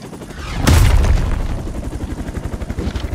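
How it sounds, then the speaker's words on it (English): A heavy explosion in a video game bursts out suddenly with a deep booming blast, followed by a rumbling rattle of rapid low thuds as it fades, loud and close with no voices. "That explosion just shorted out half our systems."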